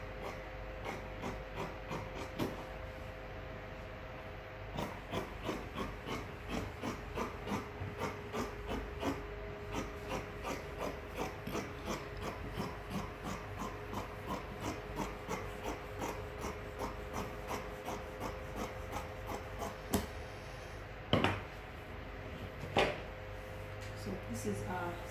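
Fabric for a six-piece skirt is cut for the back panel where the zip goes, producing a long run of soft, evenly spaced snipping and rasping ticks, faint and close, with a low steady background hiss.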